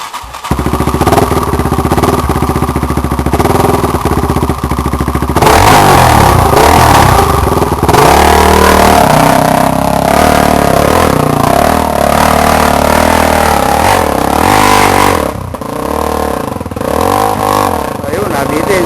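A motorcycle engine runs loud and close, idling before being revved repeatedly in rising and falling surges, with people talking over it.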